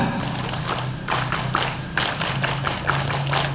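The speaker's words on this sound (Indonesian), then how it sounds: "Terima kasih, salam pramuka, tepuk pramuka" Students at a school Pramuka scout day ceremony clapping in a rhythmic group pattern, a series of loud, evenly spaced collective claps with brief pauses between bursts, heard alone outdoors.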